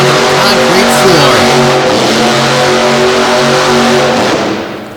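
A big Ford monster truck doing a freestyle run in an indoor arena on a dirt-covered concrete floor, its loud engine roaring and revving with pitch swings throughout, close and sustained before easing off at the end.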